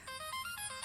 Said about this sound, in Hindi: राजा ने फोन किया है